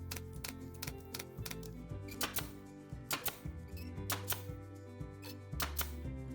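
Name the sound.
stapling upholstery fabric onto a chair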